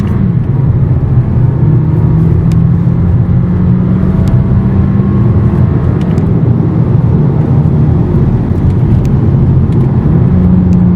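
SEAT Ateca 1.5 TSI 150 hatch with a seven-speed DSG pulling away from a standstill with slight wheelspin: a loud, close, continuous engine drone and road roar with a rising tone, no talk.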